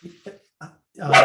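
A dog gives three short soft yips followed by one louder bark, close by, with a brief hesitant voice mixed in.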